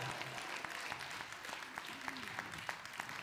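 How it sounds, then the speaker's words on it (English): A congregation at a church healing and miracle festival claps its hands, a faint, distant patter of many hands sustained steadily with a few louder claps and a murmur of voices underneath. "Give him a hand clap right now."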